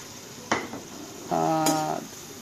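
A metal pan lid is lifted off a pan of buttered shrimp: a sharp clank, then a brief ringing, shimmering resonance as the lid scrapes and settles, close and fairly loud over a faint sizzle.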